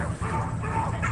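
A sad dog, rescued after Hurricane Katrina and having lost her last pup, whimpers and yips in short, strained, whiny bursts against rumbling background noise, close and moderately loud.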